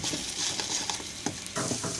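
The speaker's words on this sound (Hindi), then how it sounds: "ऐसे जल्दी जल्दी चम्मच चलाएंगे तो इसके छोटे छोटे पीस फ्राई हो जाएंगे" A spoon stirs chopped vegetables frying in a pan for vegetable fried rice, giving a steady scraping sizzle with quick irregular clicks and taps throughout, close and moderately loud.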